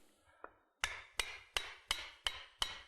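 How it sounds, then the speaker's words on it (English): A hammer striking the end of a wooden axe handle, one light tap followed by six sharp, evenly spaced blows, close and crisp with quick decays between hits. "you first of all take the hammer, you hit the end like that"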